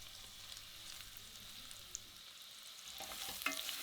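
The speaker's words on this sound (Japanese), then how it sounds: "玉ねぎとニンニクを入れたらよく油となじませて鍋底についているうまみを剥がしていきます。" Soft, steady sizzling of onions and garlic frying in duck fat in a pot, with occasional light scrapes and stirring, fairly quiet and close.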